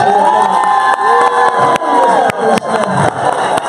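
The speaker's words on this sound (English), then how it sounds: "We're going to give her a round of applause." A large crowd at a Karatbars World Tour 2018 company event cheers and shouts loudly, with whoops and voices rising over continuous noise across the span and a few sharp claps or bangs.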